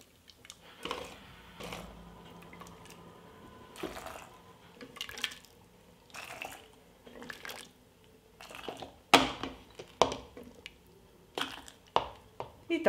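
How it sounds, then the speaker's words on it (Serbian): Cooked beans with their cooking water spooned and poured into clean glass jars, giving quiet wet squishes, drips and splashes in irregular bursts, with a few sharper glassy clinks toward the end, close and faint, no talk. "U čiste i oprane tegle sipat ću pasulj i sipat ću i vodu u kojoj se kuvao."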